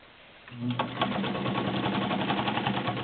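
Heavy-duty Kenmore Model 50 sewing machine stitching straight through folded denim seams, starting after a brief pause then running fast and loud with a steady rapid mechanical chatter for the rest of the clip.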